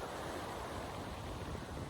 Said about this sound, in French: Concentre-toi sur les sons des vagues de la mer.